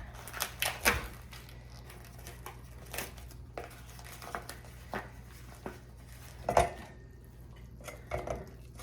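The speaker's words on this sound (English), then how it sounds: "So I'm gonna use 1 egg. Beat that up a little bit." An egg whisked with a utensil in a bowl while cooking, giving a series of quick light clinks and taps in uneven bursts, with a steady low hum behind.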